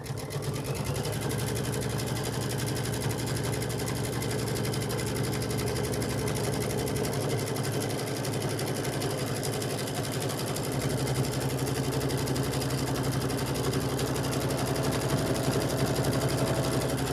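A quilting sewing machine stitches continuously, giving a steady, close mechanical hum with a fast rhythmic buzz that holds the same level throughout, with no speech.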